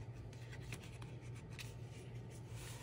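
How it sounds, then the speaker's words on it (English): Pencil or marker tracing a Hawaiian quilt template design onto folded paper, a steady faint scratching and rubbing with soft strokes over low room hum. "And then trace out my design"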